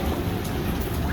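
Rain falls steadily, a dense continuous hiss of drops heard briefly and fairly close.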